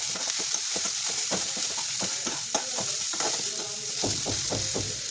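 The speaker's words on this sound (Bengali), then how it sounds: "দিয়ে একটু ভালো করে মশলাটা কষিয়ে নিলাম" Ground spices (turmeric, red chilli, cumin and pepper powders) being stir-fried in a pan for a fish-head and bottle-gourd dish, with a steady oily sizzle and repeated scraping strokes of a spatula, close and continuous.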